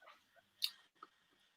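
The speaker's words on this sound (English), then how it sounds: "It's a good crunch" A crunchy bite into a lunch of mushrooms with balsamic, eaten with knife and fork: one sharp close crunch followed by a couple of softer chewing sounds, alone and fairly quiet.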